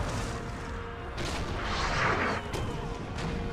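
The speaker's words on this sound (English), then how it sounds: "Oh, I think the artillery from the hill is firing on these guys." Artillery cannons fire from a hill in the Napoleonic battle game Napoleon: Total War at Castiglione, a few dull booms and crashes rolling out at a distance over a continuous battlefield rumble.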